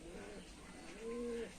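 Flying pigeons of a Punjabi Malwai breed give soft cooing calls, a short low coo and then a steadier one, faint and close against a quiet room hum.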